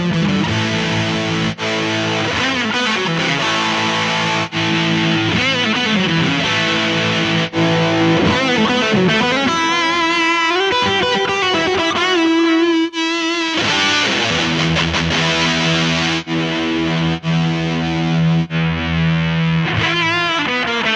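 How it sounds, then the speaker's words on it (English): An electric guitar runs through the drive and distortion effects of a Mooer GE100 multi-effects pedal, playing loud, sustained distorted chords and riffs continuously with a short held note in the middle. "I can choose tube driver or juicer drive or vintage OD or super drive, and they all have different sounds."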